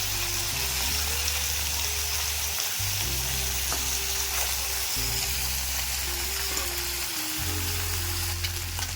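Small fish fry in hot oil with a loud, dense, continuous sizzle and crackle, heard close up with no one speaking.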